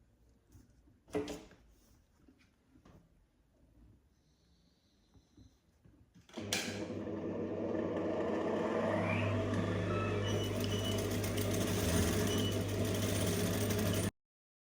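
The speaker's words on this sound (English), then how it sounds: "So I'll go ahead and stitch the sides." A sewing machine stitches the sides of a satin hair clip, starting after a few quiet seconds of handling with faint clicks, then running in one steady, fairly loud whirring burst for about eight seconds before stopping abruptly.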